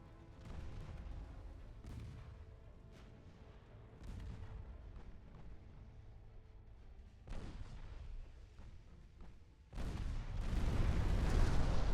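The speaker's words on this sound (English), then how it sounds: "There's an ammo detonation." A warship's ammunition magazine detonates in the naval battle game Ultimate Admiral Dreadnoughts. Muffled gun booms thud at intervals, then a heavy, roaring explosion swells loud near the end.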